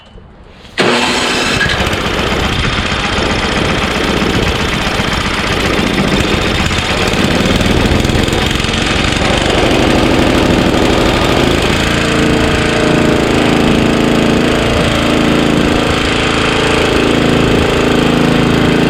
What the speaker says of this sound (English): So it runs well on half choke, which means the carburetor is a little gummy.